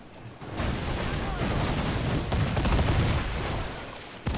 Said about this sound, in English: That's it, mortar shots.